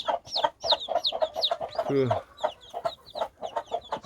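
A Cheonggye hen clucks softly near newly hatched chicks, whose rapid high peeps run throughout in a busy chatter, with a brief spoken word at one point.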